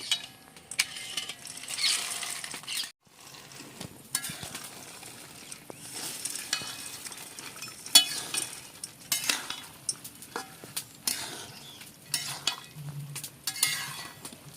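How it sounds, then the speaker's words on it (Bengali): Sugar-soaked boondi gets stirred into syrup in a pan, with a spoon scraping and clinking on and off in uneven strokes, plus a faint sticky sizzle and a brief pause. "এবার এই বোঁদেগুলো চিনির শিরার মধ্যে মিশিয়ে দেব"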